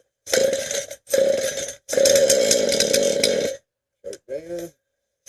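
A chainsaw is cold-started with the choke on. Several loud pull-cord bursts sputter and catch briefly, and the engine revs in short rough spurts with pauses between attempts.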